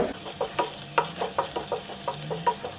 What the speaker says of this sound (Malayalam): ഒരു ടീസ്പൂൺ മുളക് പൊടി കൂടി ചേർത്ത് കൊടുക്കുക നന്നായിട്ട് ഒന്നൂടെ മിക്സ് ചെയ്യുക